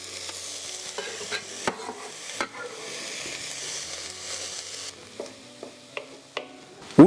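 Coarsely cut onion and a thick leek browning in a pot for a savoy cabbage and potato soup, a steady soft sizzle with scattered stirring scrapes and clinks, close and alone.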